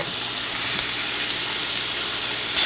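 Onion frying in a very hot pan over high heat, a steady dense sizzle that holds evenly throughout without pause, close and loud.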